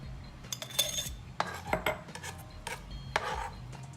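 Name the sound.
onion being put into a recycled jar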